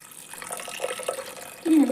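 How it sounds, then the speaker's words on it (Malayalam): Salted water is poured into chickpea curry in a pressure cooker, a soft continuous splashing that swells louder near the end, close by with no talk. "ഞാനിങ്ങനെ ഉപ്പിൻ്റെ വെള്ളമാണ് ഒഴിക്കുന്നത്"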